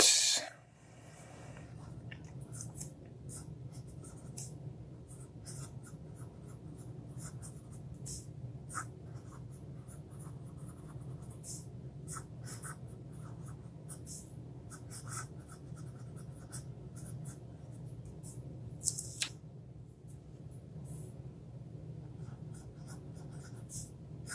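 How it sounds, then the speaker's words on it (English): Steady scratchy strokes of a Platinum 3776 fountain pen nib on paper, close and fairly quiet, continuing in a long uninterrupted stretch with small pauses. "Now you'll hear a little bit more feedback with this nib,"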